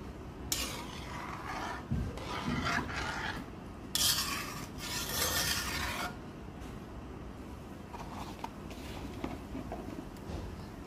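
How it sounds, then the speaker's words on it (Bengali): Beef braising in oil in a pot while a utensil scrapes and stirs it, with bursts of rasping stirring alternating with quieter stretches of soft simmering, heard close up. "তো মাংসটা কষানো হয়ে আসছে, তেল উঠে আসছে।"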